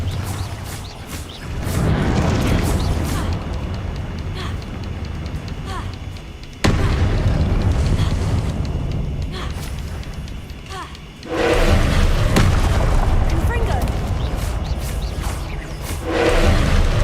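Repeated Confringo explosive spell blasts in Hogwarts Legacy, three loud booming bursts each followed by a rumbling tail, a person talking over them.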